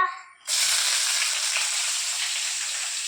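Curry leaves, ginger and onion dropped into hot oil with mustard seeds for Kerala upma, a sudden loud hiss bursting in after a brief quiet moment and continuing as a steady close sizzle.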